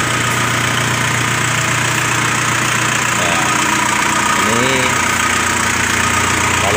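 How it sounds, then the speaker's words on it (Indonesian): A car's engine keeps idling with a steady, close, low hum throughout, while someone talks over it. "Mesinnya masih nyala."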